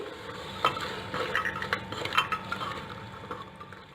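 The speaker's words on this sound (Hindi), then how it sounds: "अब हम इसे स्टर कर लेंगे।" Soaked chickpeas are stirred into masala in a pan, with a spoon scraping and clinking against the metal in an uneven rhythm under a low background hum, and nobody speaks.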